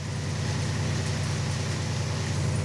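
A steady, droning boat engine hums continuously at moderate volume, an even low rumble with no voices.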